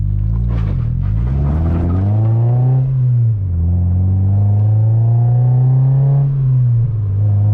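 A Mazda MX-5 NBFL 1.8 with its muffler baffle removed revs loudly and close, climbing sharply, dropping back, then holding a gruff, droning rise under load.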